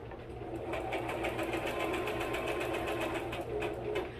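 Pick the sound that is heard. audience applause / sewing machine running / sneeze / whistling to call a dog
sewing machine running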